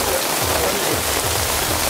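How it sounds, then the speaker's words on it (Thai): Heavy rain pours down outdoors at Wat Pho temple in Bangkok, a dense, steady wash of hiss with no speech over it. "วันนี้ฝนตกแรงมากครับสังเกตได้จากน้ำตรงนี้ครับ"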